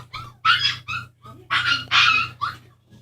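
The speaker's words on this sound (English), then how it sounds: "Just me and the sounds of dogs crying." Dogs bark and whine in short, loud bursts, several yelps clustered close together with brief pauses, the crying tone rising and falling against a low background hum.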